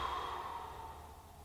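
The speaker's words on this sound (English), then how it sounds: "Big, deep exhales. Make sure you're letting all that air out." A long, deep exhale during a morning yoga stretch is heard as a soft, close, breathy sigh. It fades gradually and there is no speech.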